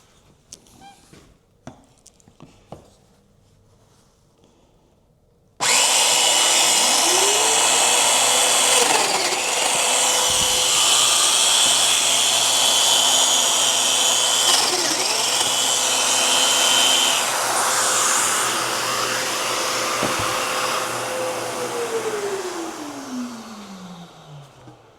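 A mortising power tool cuts mortises into a scrap wood piece, starting abruptly with a loud, steady motor whine whose pitch dips and rises briefly as it bites, then winds down at the end; faint clicks precede it.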